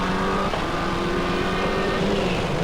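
Patrick Snijers' rally car is driven hard at the 1995 Boucles de Spa rally, its engine roaring loudly and continuously at high revs throughout.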